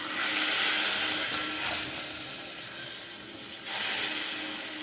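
Mustard seeds fry in hot oil with curry leaves and chilli for tempering, giving a steady, fairly loud hiss and sizzle that swells at the start, dips in the middle and rises again.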